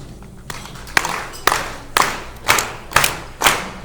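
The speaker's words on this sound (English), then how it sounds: "Just start clapping." A group claps in unison in a slow, steady beat, about two claps a second, each clap loud and ringing, starting after a short quiet moment.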